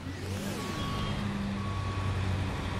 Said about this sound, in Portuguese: Deixa eu dar aqui um ré.